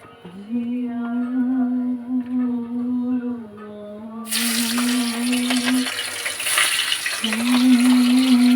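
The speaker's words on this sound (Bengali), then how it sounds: "এইবার আমি মাছটাকে ভাজা বসাই।" Katla fish tail frying in hot oil, a loud hissing sizzle that bursts in midway and keeps crackling close by, heard under a sustained humming tone from the cooking setting.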